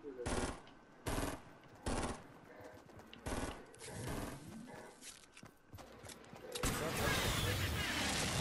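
Gunfire in a Fortnite match, several loud rapid bursts of automatic shots separated by pauses, with footsteps and game noise between and a dense stretch of firing at the close.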